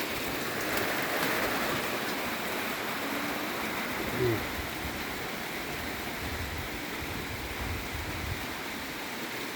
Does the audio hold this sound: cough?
no